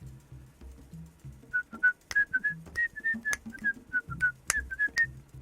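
A person whistles the Super Mario Bros. 3 overworld theme in short, clear melodic phrases with quick note hops and small gaps, fairly close and moderately loud, while low background game sounds and a few sharp clicks sit underneath.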